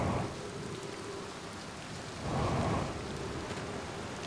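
Steady rain pours through a storm on an Outer Wilds VR planet, with a low rumble of thunder swelling midway before the downpour settles back to a constant wash.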